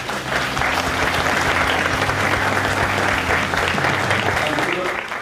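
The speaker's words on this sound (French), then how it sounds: "On peut les applaudir pour les remercier." Audience at a public-service disability inclusion conference in Réunion applauding hosts from a sheltered workplace, a loud sustained wash of many clapping hands that fills the whole stretch, with a faint voice underneath.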